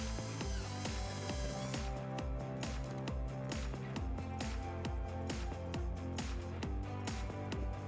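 A power driver ratchets a screw into a bumper fascia bracket at the back of a 2014 Hyundai Sonata, giving a steady clicking, whirring mechanical rhythm throughout with no talk.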